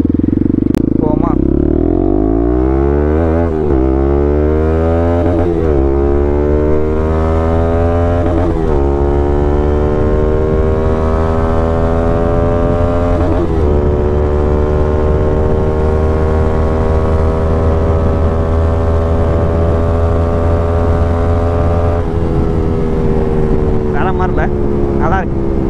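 A fully modified Bajaj NS200 motorcycle revs hard through its aftermarket exhaust, rising engine tones climbing repeatedly and then settling into a loud, rumbling hold, close up and dominating throughout.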